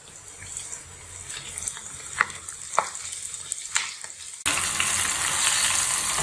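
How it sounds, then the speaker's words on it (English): Prawns coated in egg and corn flour deep frying in oil, with scattered crackles and utensil clicks, then a sudden louder, denser steady sizzle filling the last couple of seconds. "now it's time to deep fry the prawns"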